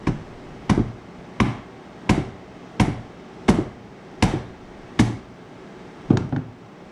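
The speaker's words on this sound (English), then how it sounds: "I used my nail gun as a hammer" Sharp, solid knocks from a nail gun being swung like a hammer to flush a shelf piece into position, eight evenly spaced strikes about a second apart, close and loud, each with a short ringing decay and no talking.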